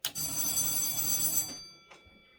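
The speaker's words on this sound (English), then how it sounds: "So when the damper is moving, that bell will be ringing." A whole-house fan damper's bright electric bell rings continuously for about a second and a half as the damper moves, then cuts off, followed by a faint click.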